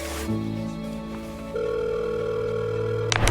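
A telephone ringing in a Korean workplace web drama, heard as a steady electronic tone that shifts pitch once and continues unbroken, loud and close, ending in a brief clatter.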